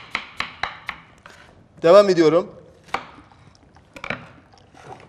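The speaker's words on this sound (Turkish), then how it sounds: "ben bir tane soğanımı şöyle bir ufak ufak doğruyorum" A knife chops an onion into small pieces on a cutting board, a series of sharp, close taps in an uneven rhythm, with a short burst of speech in the middle.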